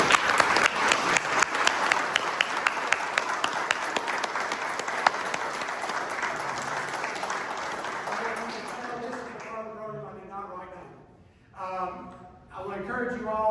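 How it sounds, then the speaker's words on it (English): Audience applause at a candidate forum in Franklin Springs, Georgia: steady, dense clapping from a crowd that runs for about nine seconds, then fades out and gives way to a speaking voice. "let's give all of these guys another hand of applause for how well they did tonight."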